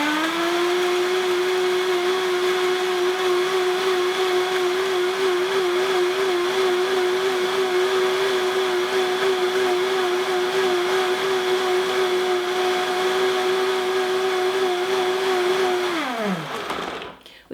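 Blender whizzing a healthy custard mixture with nuts, a loud steady motor whine held for about sixteen seconds before it winds down and stops, with no talking.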